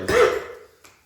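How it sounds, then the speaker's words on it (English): A single short cough bursts out loudly up close, then trails off into quiet with a faint second catch of breath near the end. "No, I had a cough."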